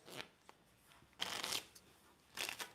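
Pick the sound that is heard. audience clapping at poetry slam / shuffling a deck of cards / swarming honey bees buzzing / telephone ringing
shuffling a deck of cards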